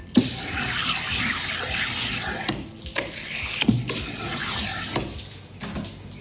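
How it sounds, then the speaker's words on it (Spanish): Hake slices rinsed under a running tap, a steady close splash of flowing water broken by a few brief clunks and pauses as the flow is interrupted. "Pasamos un agua."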